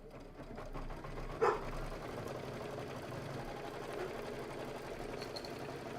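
An embroidery machine stitching outline trim lines on a Kimberbell table topper, a steady, close, fast mechanical hum and needle chatter running evenly throughout with one brief clack, and no talking.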